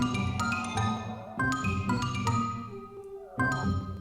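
A spooky music cue plays alone, layering sirens, choir and a distant-sounding synth piano in repeating phrases with soft, rhythmic attacks.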